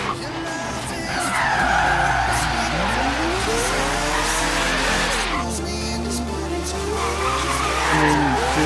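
Mazda Savanna RX-7 drift car in Forza Horizon 3 sliding with loud, sustained tire squeal, its pitch sweeping up and down while the engine drones steadily underneath, continuous and close throughout.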